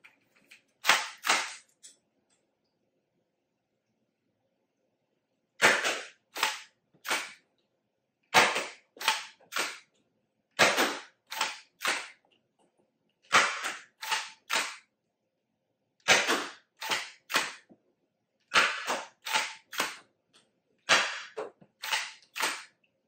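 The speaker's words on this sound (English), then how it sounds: "we're now going to test the accuracy, 10 darts in the basket, and see how accurate this blaster can be using an actual scope" XYL KM9 Unicorn foam dart blaster firing darts at a basket, loud sharp pops in regular groups of two to three shots separated by brief pauses, each followed by a quick mechanical snap, with no talking.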